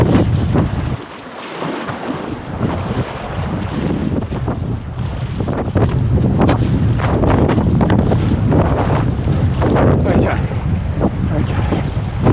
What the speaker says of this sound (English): Didn't really count on that wind being that strong